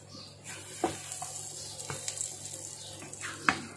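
A Thai omelette with onion and fresh bird's eye chili sizzles in a pan, a faint, steady hiss broken by a few sharp clicks and scrapes.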